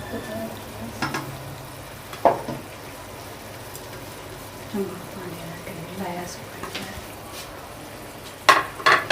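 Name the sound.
masala and tomatoes cooking in a pan for haleem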